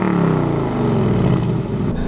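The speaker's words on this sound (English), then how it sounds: "you can hear the exhaust in the background crackling in the sport mode and all that" A 2018 Mustang GT with a 10-speed automatic accelerates in second gear in sport mode, its active exhaust giving a loud, close, throaty engine drone with rising tones and slight crackle.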